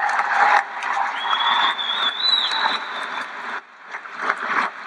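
Applause from the crowd at Apple Valley High School's 2023 graduation ceremony, a dense patter of clapping with a whistle rising above it, dipping briefly near the end before picking back up.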